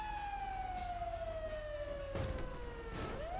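Sirens wail in a game race, one long tone sliding slowly downward with its harmonics before a fresh rising sweep begins near the end, steady and fairly loud over a low engine-like rumble.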